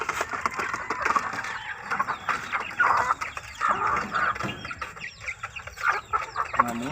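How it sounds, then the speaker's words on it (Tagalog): Chickens cluck and chatter at close range in a busy, irregular stream of short calls, several birds overlapping without pause. "Itong manok, mga brad."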